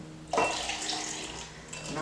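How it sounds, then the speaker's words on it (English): Cold water poured into a bowl for lime jello, a steady splashing pour that starts abruptly and runs for nearly two seconds before tapering off, close and moderately loud with no talk. "My cold water."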